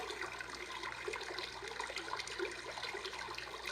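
Brook setting on a sleep sound machine gives a continuous babbling, trickling water sound with small irregular splashes, steady in level and free of speech.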